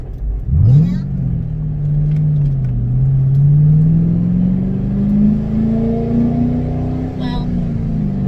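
Ford Mustang GT race car driving on a mountain road, its engine note rising steadily and droning loud and close throughout, with people talking over it.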